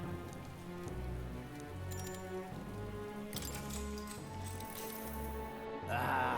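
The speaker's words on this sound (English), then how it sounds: "This is a most foul downpour." Heavy rain downpour in the video game Metaphor: ReFantazio, a steady hiss of drops on surfaces running throughout, mixed with a low, pulsing musical drone.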